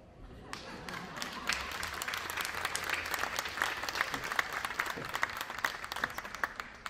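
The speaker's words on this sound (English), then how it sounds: "Thank you for that warm round of applause." Steady audience applause at a National Day for Truth and Reconciliation ceremony, dense clapping from many hands at a fairly even level, with a faint low rumble underneath.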